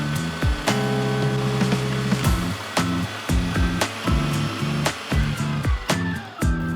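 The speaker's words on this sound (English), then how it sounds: "we're ready to push the rest of our mixture through the grinder and make our sausages" An electric meat grinder pushes a beef sausage mixture into a casing, its motor whining in repeated short bursts that start and stop with sharp knocks and clatters between them, loud and close.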